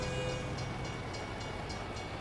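A train rolls past in the American Truck Simulator game set in Idaho, a steady rumbling roar with faint rhythmic clatter and a thin tonal hum, with no talking.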